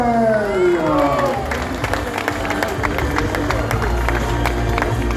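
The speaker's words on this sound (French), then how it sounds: "Un tonnerre d'applaudissements pour Jacob Kosgei" A crowd applauds and cheers at a half-marathon prize ceremony in Les Sables d'Olonne as the fifth-place runner is honoured, with steady clapping near and loud over an amplified announcer's voice and crowd murmur.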